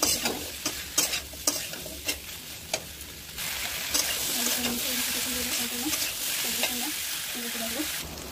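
Taro stolons (kochur loti) fry in a pan. A spatula scrapes and clacks rhythmically against the pan at first, then a steadier sizzle and hiss take over, with faint background tones.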